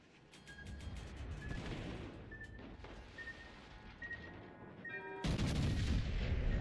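Naval shells slam into a warship in World of Warships Legends, a continuous rumble of heavy booms and impacts with tonal alert chimes, swelling into a louder, denser barrage near the end.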